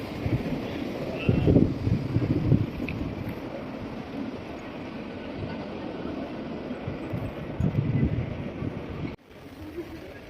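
Wind blowing outdoors on a street in Amsterdam, a steady rushing roar with low buffeting gusts against the microphone, swelling strongly twice before cutting off abruptly near the end.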